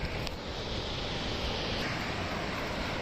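Sea waves at Varkala beach, a broad, steady wash of surf with wind noise on the microphone, loud and continuous without a clear individual break.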